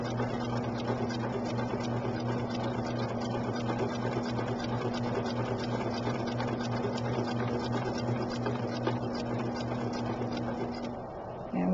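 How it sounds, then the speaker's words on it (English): A sewing machine stitches quilt squares together in pairs for a Dutch Rose quilt block, running as a steady, even mechanical whir with a fast, regular needle chatter that continues almost without pause, then stops briefly at the end. "So here we go, sewing squares together in pairs."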